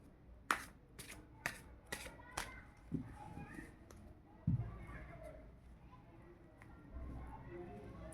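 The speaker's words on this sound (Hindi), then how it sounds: "चलिए कार्ड्स निकालते हैं।" Tarot cards shuffled by hand: a run of crisp, evenly spaced snaps and slaps, then softer riffling and rustling, close but quiet, with faint talk in the background.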